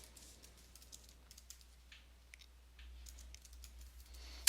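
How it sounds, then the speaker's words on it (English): Soft, close keystrokes on a computer keyboard come in an irregular run of light clicks while a class entry is typed into a form, quiet and without speech. "So for our classrooms, I'm going to type in"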